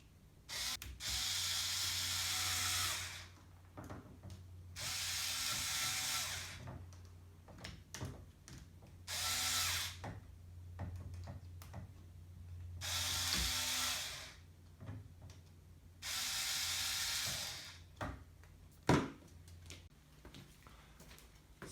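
A belt clamp on the Y axis of a 3D printer's GT2 belt assembly is tightened in several close, loud bursts of rapid mechanical ratcheting, with quiet pauses and small clicks in between.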